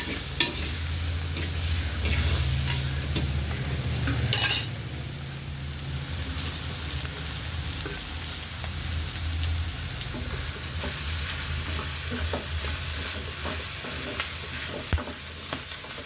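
Onions and curry leaves sizzling in a hot pan, a loud, continuous frying hiss with scattered crackles and stirring scrapes, no voices.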